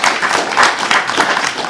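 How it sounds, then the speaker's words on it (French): Audience applause at a conference in Quebec, steady dense clapping from a crowd filling the room, loud and continuous throughout. "je vous invite à applaudir chacun d'eux"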